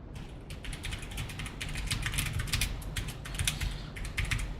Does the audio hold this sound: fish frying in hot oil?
no